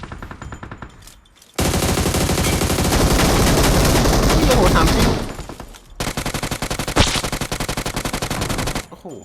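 Sustained rapid automatic gunfire in the mobile battle royale game PUBG Mobile, loud and dense bursts that stop briefly before resuming, with a single sharper shot standing out near the end.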